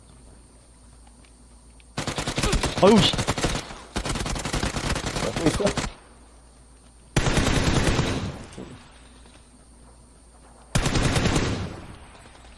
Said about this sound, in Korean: 저기 맞네, 총소리